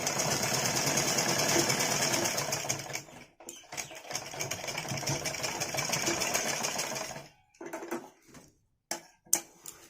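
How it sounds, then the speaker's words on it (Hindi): A sewing machine stitches blouse fabric for a choli cut blouse, running a close, steady mechanical chatter for about three seconds, then in shorter bursts with brief pauses before stopping. "बस यहाँ हल्का सा ऐसे कपड़ा सिलाई कर दीजिए"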